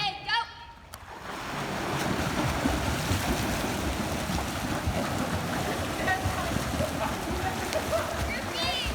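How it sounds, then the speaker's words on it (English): Swimmers kick on kickboards in a pool, filling the space with a continuous churning wash of splashing water after a voice calls out at the start. "Good, I saw some really big splashes"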